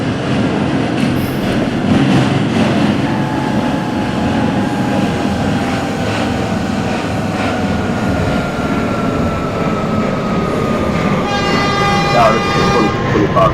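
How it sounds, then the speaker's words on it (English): A train horn sounds a long, level blast over steady, loud rail rumble as a train moves through the city on the line to Far Rockaway, with a brighter tone appearing near the end. "Sound short, blast of the horn to let personnel in the area know that there's a train in the city"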